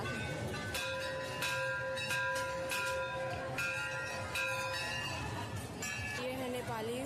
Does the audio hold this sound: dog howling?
no